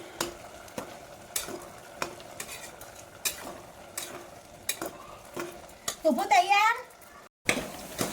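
A spoon scrapes and clacks against a pan of carrot halwa in repeated stirring strokes, with a voice and other talk over it.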